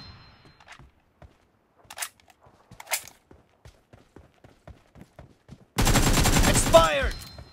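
Gunfire in PUBG Mobile: scattered quiet shots and steps early on, then a sudden loud, sustained burst of automatic fire near the end, with a brief voice over it.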